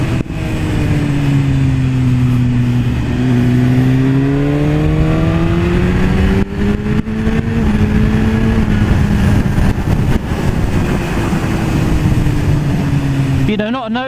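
A BMW S1000RR sport motorcycle in sport mode on a test ride, its engine loud and continuous with rising and falling pitch through gear changes, a rushing wind roar underneath throughout.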